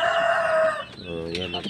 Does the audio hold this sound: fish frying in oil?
no